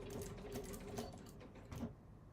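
A sewing machine runs in short bursts while reverse stitching at the start of a seam on a fabric bag gusset, a fast close mechanical whir with quiet pauses.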